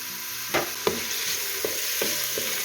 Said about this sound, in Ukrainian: підсмажуємо до прозорості